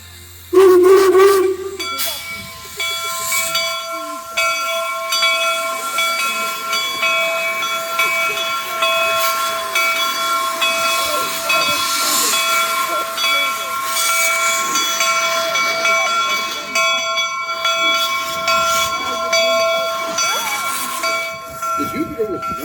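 Union Pacific-era replica steam locomotive Jupiter at Golden Spike National Historical Park sounds a loud, sustained steam whistle for about two seconds, then a long steady steam hiss continues to the end.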